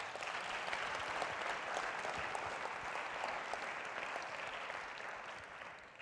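Sustained audience applause fills a hall at a youth forum held at UNESCO. The steady, dense clapping stays at an even level from start to finish, with no talk over it.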